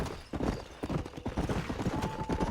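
Horse hooves clip-clop at a steady trotting rhythm in the Western video game Red Dead Redemption, close and clear, with a faint tonal game sound near the end.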